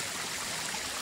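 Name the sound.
waterfall water flowing on mountain trail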